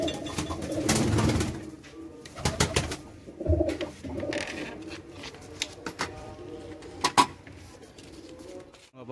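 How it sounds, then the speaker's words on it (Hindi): Pigeons of several fine breeds cooing in a loft in Punjab, soft throaty coos repeating at close range alongside wing flutters and shuffling movement, with no talk over them. "ਸਾਰੀਆਂ ਚੰਗੀਆਂ ਚੰਗੀਆਂ ਨਸਲਾਂ ਦੇ ਕਬੂਤਰ ਆ"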